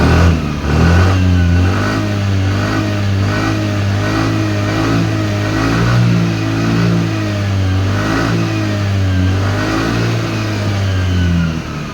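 A Suzuki Access BS6 scooter with a battery-charging fault runs its engine raised to a steady high rev. The close, loud drone holds a constant pitch for the whole stretch, with no voices.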